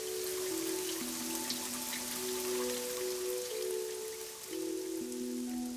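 Rain falling outdoors makes a steady, dense hiss of drops, fairly close, with faint sustained tones underneath and no talk.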